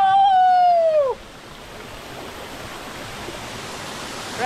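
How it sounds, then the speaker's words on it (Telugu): A forest waterfall at Parupu Bandalu near Srisailam gives a steady, even roar after a brief tonal voice-like sound opens the moment, then the water continues alone at moderate level. "మనం వాటర్ ఫాల్ దగ్గరికి వచ్చాం"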